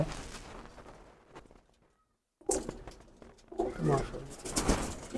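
Competition racing pigeons coo nearby, with low rolling calls and soft fluttering mixed in. Someone talks over them, and a brief silence breaks the clip.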